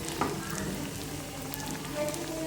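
Sabudana and potato vada fritters deep-fry in hot oil, giving a close, steady, crackling sizzle throughout.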